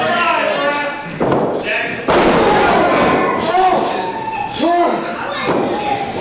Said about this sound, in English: Look at the testament to the hard hitting Rey. Demonyo with those strikes busting his gear open